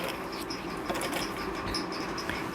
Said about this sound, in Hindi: यहाँ बिल्कुल किनारे के ऊपर से हम इसके ऊपर सिलाई लगा लेंगे